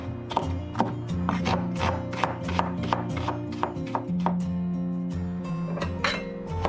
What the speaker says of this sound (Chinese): 像这种芹菜，我们就给它切断。